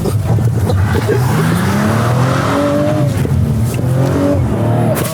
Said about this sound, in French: Ce sera le dernier drift du coup.